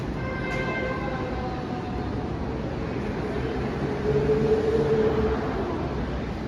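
A Seattle Center Monorail train built in the 1960s pulls into the station with a steady low rumble and a faint rising whine midway, moderately loud and continuous.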